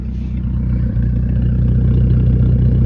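A Ford Thunderbird Turbo Coupe, a Fox-body car, idles with a steady low engine and exhaust growl close by, holding even and loud for about three seconds with no one speaking.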